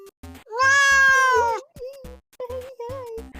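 A pet cat gives a long, drawn-out meow up close, followed by a few shorter mews and chirps, alone with no talk over it.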